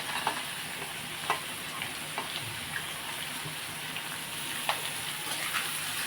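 Capsicum frying in an egg curry, stirred with a spoon in the pan: a steady close sizzle runs throughout, with scattered scrape-and-tap stirring strokes over it.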